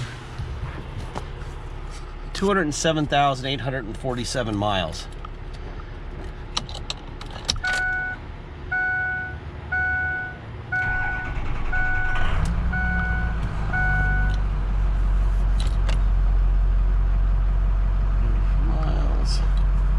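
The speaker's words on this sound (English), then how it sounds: "I'm gonna fire this truck up." Keys jingle and a few electronic chimes ring before a 2006 Ford F250 pickup's engine cranks and rumbles to life, settling into a steady low idle; someone talks briefly early on.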